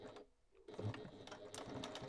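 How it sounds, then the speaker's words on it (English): A sewing machine stitching a seam along the edge of a fabric bag, a brief close mechanical whir that stops, then runs again in a quick rattling burst. "So I'm going to sew along, catching in, with any luck, I'm going to catch in"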